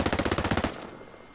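Full-auto rifle fire in the video game Ghost Recon Breakpoint: one rapid, even burst of about a dozen loud, close shots, then a short fading echo tail.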